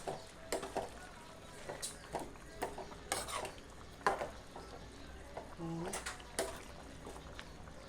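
A ladle scrapes and clinks against a pot while scooping pork and pumpkin curry made with coconut milk, giving soft irregular metallic knocks and stirring sounds, with someone talking over them.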